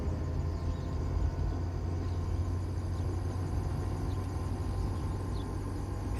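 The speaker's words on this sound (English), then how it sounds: "fades in the next scene with nothing but the purring of their car's engine and some cricket ambiance" In a scene from A Goofy Movie, a family car's engine purrs in a steady low rumble beneath faint, continuous night cricket chirping, with no voices.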